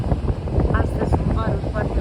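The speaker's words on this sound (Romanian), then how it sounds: "bate vântul tare de tot" Strong wind at a beach in September, buffeting loudly and continuously with gusty roaring, while a person talks over it.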